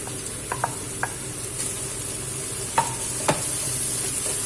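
Pork and winged beans sizzling in a hot pan with steady frying hiss, broken by a few sharp scrapes and clacks of a utensil stir-frying.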